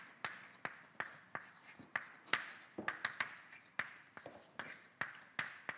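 A lecturer writing on a board in a math lecture, giving a quiet close series of sharp chalk taps and short scratching strokes in an irregular rhythm, with no talk.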